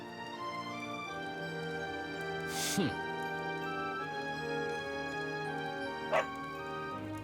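Within Dragon Quest XI, a dog gives two short, sharp barks a few seconds apart, set against continuous game music.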